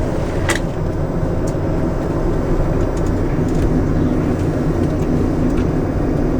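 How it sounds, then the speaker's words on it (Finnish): Drifting car with modified suspension crossing over a bridge, a steady low engine rumble and road noise filling the whole stretch at close range, with a few faint clicks and knocks above it and no talking. "Katoppa, kun mä ajan tästä sillaa yli"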